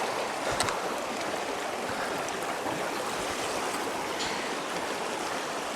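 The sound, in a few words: stream water flowing past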